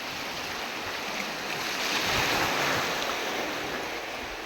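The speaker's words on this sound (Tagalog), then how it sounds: "ang alon dito grabe kalalaki at sumasalpok dito sa bato na yan." Big surf pounds against the rocks at Punta Diablo on the Palawan coast, a steady broad roar of crashing water with wind noise and a slight swell in the middle, with no voices.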